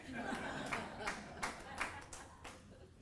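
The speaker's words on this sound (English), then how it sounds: "That was Ross applauding." One person clapping at an Omaha Press Club Hall of Fame event, a handful of sharp, evenly spaced claps, fairly faint, with a room murmur behind.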